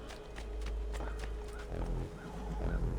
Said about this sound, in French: monte à cheval